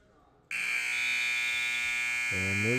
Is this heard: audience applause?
no